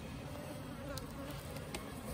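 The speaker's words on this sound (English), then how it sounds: "look how many bees we got in there." A swarm of honey bees buzzing inside a backyard swarm trap, a continuous close, dense hum with no pauses over about two seconds.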